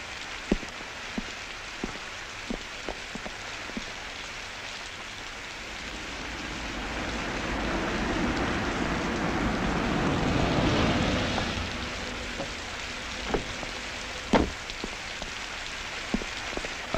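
Steady rain falling on surfaces, a continuous hiss with scattered sharper drips and taps, swelling into a heavier wash midway before easing back, with occasional louder close drops.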